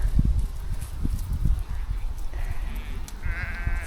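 Sheep and lambs on a farm give a few bleats, with a higher call near the end, over close rustling, footsteps and movement as the flock comes running up.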